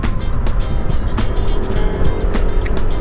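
A car driving at night on a dark road: steady engine and road rumble throughout with faint tire noise and occasional clicks, loud and continuous from inside the vehicle.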